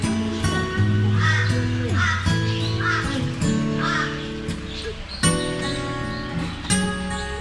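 Loud, repeated cawing calls from crow-like birds close by in an Australian aviary, harsh and rhythmic, with a few softer bird sounds mixed in.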